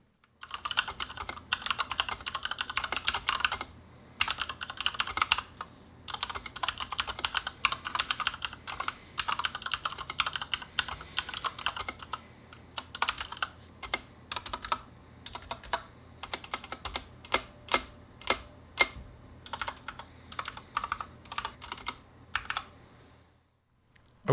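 Close, crisp typing on a Corsair K65 RGB Mini 60% keyboard with Cherry Red switches, with fast runs of keystrokes, scattered louder clacks and brief pauses over about twenty-four seconds.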